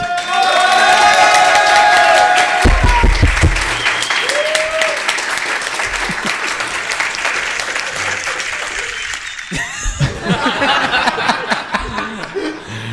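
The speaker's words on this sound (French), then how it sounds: "Et c'est parti pour les applaudissements pour les grosses tech." Audience applause breaks out during a French tech awards-style show, with loud sustained clapping mixed with chuckles and cheering from the crowd, tapering off and swelling again as people talk amid it.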